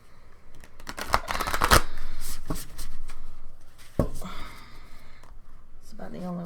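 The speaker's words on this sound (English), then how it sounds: "So I'll try to shuffle them the best way that I know how." Gigantic tarot cards shuffled by hand in bursts of riffling and slapping, close and fairly loud, with pauses and a few softer card rustles in between.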